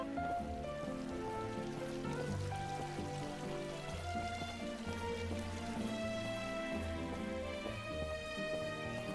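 Video game rain falls in a soft, continuous patter under quiet tonal background music, faint and steady throughout.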